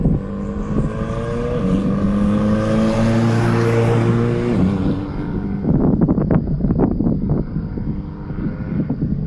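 A Honda S2000 race car runs on the Eagles Canyon track in the morning, its engine note rising through the revs loud and close, then dropping away and giving way to crackling, popping exhaust and engine noise.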